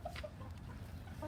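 Two buff Brahma bantam hens cluck softly in a low, steady murmur, with a few brief higher notes over a constant background rumble.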